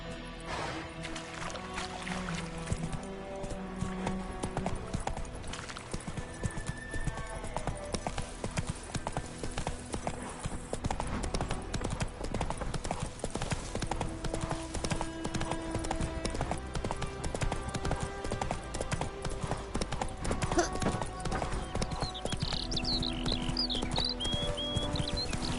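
A horse gallops in The Witcher 3 with steady, rhythmic hoofbeats that continue throughout over game music and ambience, close and loud, with no talking.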